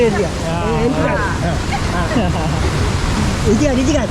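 Floodwater rushes in a steady broadband roar after heavy rain in Konkan, with someone talking excitedly over it the whole time.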